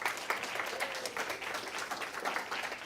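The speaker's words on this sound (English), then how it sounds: "Let's give them a round of applause" A church congregation gives a round of applause, a steady mass of clapping at moderate loudness that holds for a few seconds with a faint voice under it.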